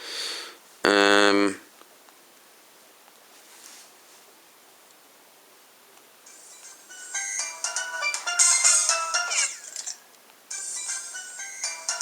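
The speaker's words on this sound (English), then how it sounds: "That's the stock ringtone." A phone ringtone plays a bright synthetic melody in the latter half, moderately loud and close, after a brief loud electronic burst near the start.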